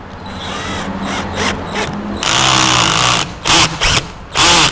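A cordless power drill pre-drilling a pilot hole, heard up close and loud as a run of rising motor whines, a long steady spin, then several quick on-off bursts, with no talking.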